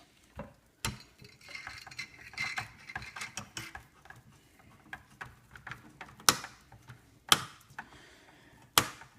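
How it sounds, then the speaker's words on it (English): A screwdriver works the heatsink screws out of a Dell T7500 workstation, making close, busy ratcheting clicks and scraping metal ticks, ending with a few louder clacks. "4 screws to remove the heatsink."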